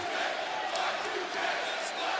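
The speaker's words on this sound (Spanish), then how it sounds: "Muchos adeptos aplaudiendo a Chris Jericho en ese momento." A large wrestling arena crowd roars and cheers steadily for Chris Jericho during a Money in the Bank ladder match, a dense, continuous wash of noise with no breaks.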